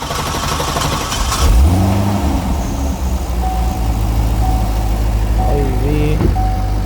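A C6 Corvette's LS2 V8, freshly fitted with an E85 flex-fuel kit, cranks and fires with a loud, close burst, flares briefly in revs, then settles into a steady, rumbling idle, with faint voices in the background.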